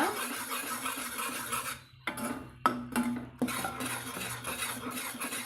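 A utensil scrapes and stirs roasted pearl millet flour mixture in a pan for Mysore pak, with steady rasping strokes, then clattering knocks against the pan after a brief pause, close and clear with no talking.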